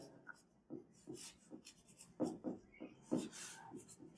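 Pen writing out a math solution on paper for a circle radius problem, a series of short scratchy strokes in irregular bursts, close and fairly quiet, with no talking.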